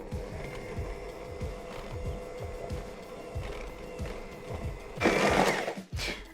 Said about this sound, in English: And then we're going to mix all that together again.